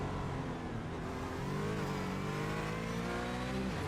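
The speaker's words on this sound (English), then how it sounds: "Just hear the revs go up there." A GT4 race car engine revs up steadily in a production-car circuit race, a loud continuous harmonic drone that climbs in pitch, close and alone with no talk.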